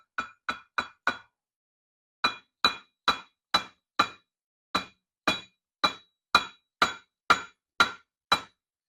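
Sharp dead blow hammer taps on metal turbocharger parts, four quick strikes, a pause, then a steady series of about a dozen evenly spaced blows, close and clear.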